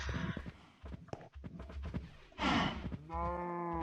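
Minecraft cows give a drawn-out bovine moo near the end, preceded by scattered blocky footsteps and other game sounds at moderate loudness.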